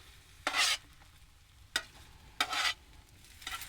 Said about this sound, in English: I spread out the eggs really thin and then I keep them moving around